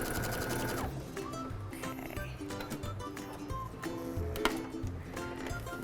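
A sewing machine runs steadily for the whole stretch as it sews a quarter-inch seam along a marked presser foot, with a continuous, moderately loud mechanical hum and needle rhythm and no talking.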